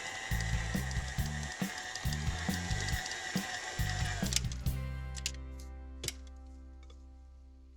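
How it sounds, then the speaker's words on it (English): Pop tart cookie dough churns in an electric mixer, the motor droning with a loud, rhythmic thumping as the dough knocks around the bowl, then the machine winds down into quiet. "And I just mix it until the dough comes together."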